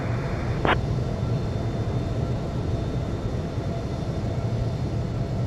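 Steady broadband jet engine roar of an airliner taxiing toward runway 34 left in the Infinite Flight simulator, continuous and even throughout, with a brief high tone near the start.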